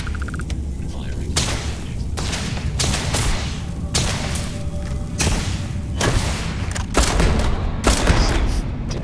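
Spaceship weapons fire repeatedly during a space battle in the video game Starfield, producing heavy booming blasts in a rapid rhythmic barrage over constant engine rumble, with a voice speaking in between.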